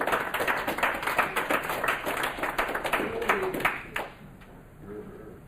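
At a student leadership summit, an audience gives a moderate round of applause to welcome a speaker. The clapping is crisp and rhythmic for about four seconds and then tapers off into quiet room sound.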